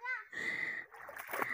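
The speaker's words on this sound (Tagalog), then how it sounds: "Dahil nagsibabaan kami at nagtampisaw." People wading and splashing in the pool below a waterfall, a few short splashes and sloshing close by, mixed with voices and a child calling out.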